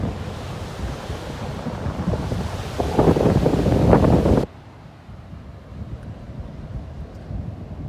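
Open-sea waves crashing onto coastal rocks, a loud continuous surf roar heavily buffeted by wind on the microphone, swelling for a few seconds before cutting abruptly to a much quieter wash.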